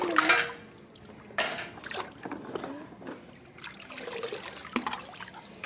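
Vegetables are rinsed under water with intermittent splashing and trickling. Louder swishes come in bursts, followed by quieter dribbling, all fairly close.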